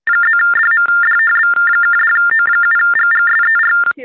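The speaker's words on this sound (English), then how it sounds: "we were hearing a very loud ringing" A loud electronic phone ringtone blares continuously at close range, a repeating two-tone warble pattern that fills the whole stretch, heard alone with no talking.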